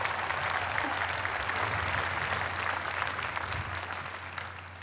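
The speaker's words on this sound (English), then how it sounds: "Well, you can hand clap yourselves." Graduates at Boston University's 2021 undergraduate commencement clap for themselves in a large venue, a broad, steady wash of many hands, full at first and easing slightly toward the end.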